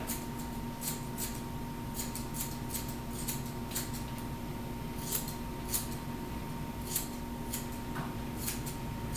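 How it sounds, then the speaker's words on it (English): Scissors snip in quick irregular bursts against a steady background hum, each cut a crisp metallic click close by, trimming a Yorkie's fur around the paw. "As I scissor around the paw."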